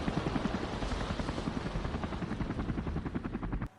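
Helicopter flying, a steady close rotor chop pulsing rapidly over a dense engine roar, holding level for a few seconds before cutting off abruptly.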